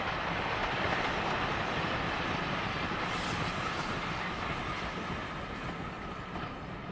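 Calbourne, the surviving Adams O2 class steam tank engine of the old Isle of Wight Railway, runs along the line with a steady, faint rumbling rattle that fades slightly toward the end.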